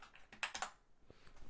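Keys clacking on a computer keyboard, a quick cluster of crisp close taps followed by a few softer strokes, faint and with no voices.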